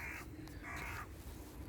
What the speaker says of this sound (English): crows going over